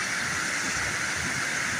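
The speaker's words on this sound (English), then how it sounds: "Well, we have some waterfalls." Zealand Falls, a waterfall on the Appalachian Trail in New Hampshire's White Mountains, pours as a steady, dense rushing roar close by, unbroken and filling the whole clip with no voices.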